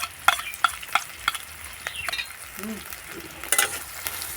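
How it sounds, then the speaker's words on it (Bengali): Chopped onion, grated ginger and green chili fry in oil with cumin seeds, a steady sizzle broken by sharp clacks and scrapes of a spoon stirring the pan, close and alone without talk. "একটুখানি আমি ভাজা ভাজা করে নেব তাহলে কাঁচা গন্ধটা যেন দূর হয়ে যায়"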